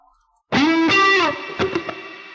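A processed musical tone passes through the Biverb dual reverb plugin by United Plugins: a sudden bright harmonic note with a gliding pitch bend and a few re-struck accents, heavily effected and tailing off with reverberant wash, no voices.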